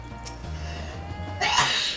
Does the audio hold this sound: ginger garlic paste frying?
no